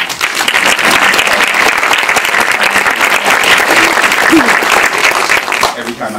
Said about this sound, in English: I just want to take this time to applaud her right now